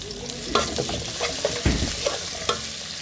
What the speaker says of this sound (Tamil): அது கூட பச்சை மிளகா இஞ்சி பூண்டை சேர்த்துருக்காங்க. கொஞ்சம் வதங்கட்டும்.